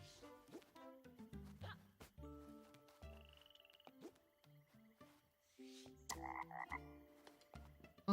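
Frogs croak in the storybook video game The Plucky Squire, a string of quiet, close cartoonish croaks and ribbits with brief gaps, alone without talk.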